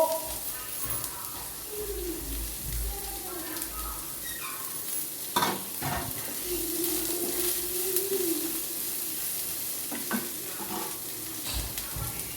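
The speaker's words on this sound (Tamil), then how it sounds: "எல்லாம் போட்டு நல்லா வதக்கி" Onions and curry leaves sauté in a pan for carrot rice, a steady sizzle with scraping stirs and occasional clinks of a spoon against the pan.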